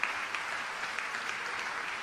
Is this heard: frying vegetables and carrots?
no